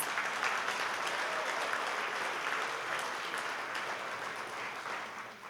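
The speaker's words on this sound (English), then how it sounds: "let's give him a round of applause" Sustained audience applause at a First Nations art award ceremony, a steady dense patter of many hands that holds for several seconds and slowly tapers, with faint voices underneath.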